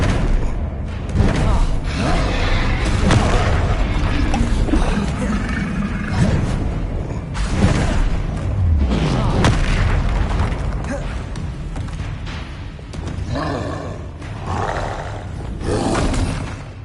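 Booming spell blasts from Hogwarts Legacy gameplay, Bombarda and Confringo explosions, roar out in dense, overlapping bursts for the whole stretch, loud and close, with a voice shouting spell names over them.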